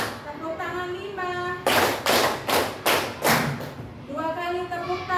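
Children in a classroom clap hands in a counting pattern: a run of five loud, sharp claps at a steady beat, with chanting voices before and after.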